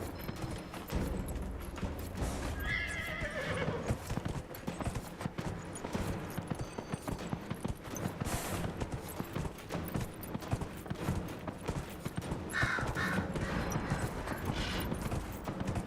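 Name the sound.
horse galloping and neighing in Dragon Age video game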